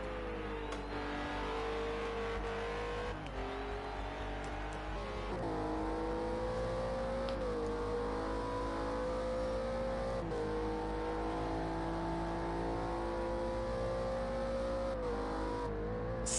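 Renault RS01 race car in Project Cars 2 on the Nurburgring short circuit, its engine roaring steadily through seven gears, pitch climbing and dropping sharply at each shift, loud and close throughout with no talk.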